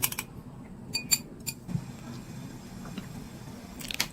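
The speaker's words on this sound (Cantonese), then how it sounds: "預備1隻雞蛋，用筷子將佢攪勻" A single egg is beaten with chopsticks in a bowl, giving a few sparse, light clinks in short bursts with quiet gaps between them.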